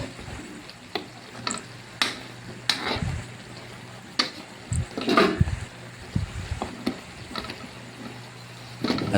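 A spoon stirs paksiw na pata, braised pork hocks, in a pot, giving irregular scraping knocks and soft liquid sloshes over a low simmering sizzle, close and fairly loud.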